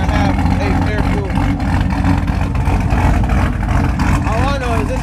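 A loud, rough supercharged LSA V8 engine in a 2007 Chevrolet Trailblazer SS idles with a choppy, lumpy rumble, steady and close, with a few voices talking over it.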